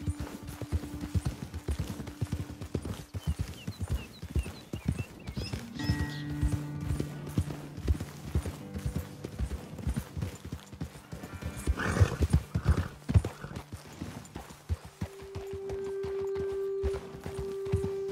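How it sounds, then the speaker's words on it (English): Horse hooves clip-clop steadily in Red Dead Redemption II as riders move along a trail, with an occasional whinny and a sustained musical tone layered underneath, the hoofbeats close and continuous throughout. "Okay, let's dismount here. Best leave the horses back a bit."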